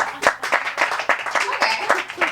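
Comedy club audience breaks into clapping in agreement during a stand-up set, a dense, fairly loud patter of many hands with scattered cheers and voices mixed in.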